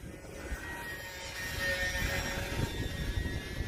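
The electric motor of a Hobbyzone Aeroscout S 1.1 m RC plane buzzes at high power as it flies in windy conditions. The steady mid-high drone is mixed with rumbling wind gusts, and no one speaks.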